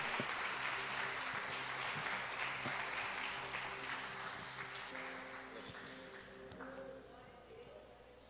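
A church congregation claps together during a service. The applause is steady and rhythmic, slowly fading toward the end, with a sustained organ or keyboard tone underneath.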